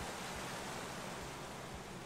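Steady, dense rushing of a waterfall in the Minecraft Story Mode video game, a continuous close roar of falling water without pauses, heard alone.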